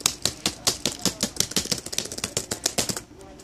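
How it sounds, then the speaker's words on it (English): A computer keyboard is smacked hard and fast in anger, a rapid close run of loud clattering key strikes over several seconds with no talk. "they just smack their keyboard"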